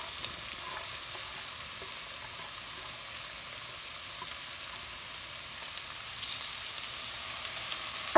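Carrots for zharkoe, a Russian stew, frying in a pan over too-high heat, with a steady close sizzle and a soft hiss running throughout and faint scrapes near the end, no talk.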